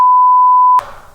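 Quiz buzzer beep: one steady loud electronic tone lasting under a second, cut off sharply and followed by a faint room tail.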